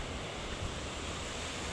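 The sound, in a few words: strong ocean waves at a beach in Brunei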